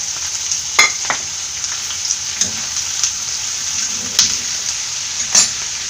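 Cabbage and capsicum sizzle steadily as they are stir-fried for Kerala-style egg hakka noodles, with a loud, even frying hiss and occasional sharp clinks and scrapes of a spatula against the pan.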